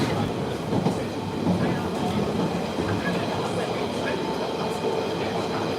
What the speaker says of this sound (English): so I just got on the train